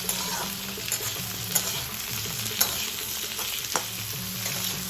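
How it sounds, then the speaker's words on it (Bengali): Loud, steady sizzle of salted potato pieces frying lightly in hot oil, with occasional scraping stirs rising above the continuous hiss. "টুকরো করে রাখা আলুগুলো একটু নুন দিয়ে হালকা করে ভেজে নেব"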